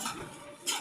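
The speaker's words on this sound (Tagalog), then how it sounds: "maghugas tayo ng pinggan" Dishes being washed by hand, with plates and cutlery clinking and scraping under running water in a short, busy burst that swells loudly at the end.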